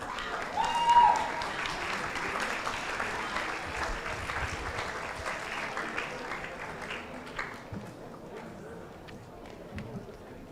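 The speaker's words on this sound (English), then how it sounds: "Please welcome them with a round of applause" An audience at a hackathon premiere applauds as a team comes to the stage, with loud clapping at first that settles into a steady round and slowly thins out, plus a few scattered footsteps and faint voices.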